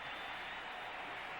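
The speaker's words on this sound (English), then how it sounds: "And the crowd here is loving it." Football stadium crowd during a Bears at Packers game cheers a long run, a broad steady roar heard from a distance at low level with no distinct claps.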